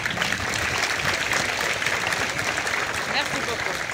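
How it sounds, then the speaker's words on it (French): Dense, sustained applause from a crowd of schoolchildren and guests at an outdoor school flag-raising ceremony in Ouakam, even and loud across the whole stretch. "applaudissez aussi les invités ici présents à votre école"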